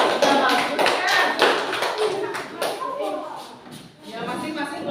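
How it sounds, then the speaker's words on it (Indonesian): Classroom applause for a student group, several bursts of children's clapping mixed with shuffling and taps, with a teacher's voice talking over parts of it. "Beri tepuk tangan untuk kelompok 3"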